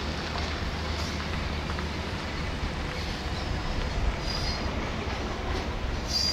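A small diesel locomotive shunts a TPI cement freight train in a silo yard at a Thai railway station, with a steady low engine rumble and rolling wagon noise throughout, plus faint wheel squeals near the end.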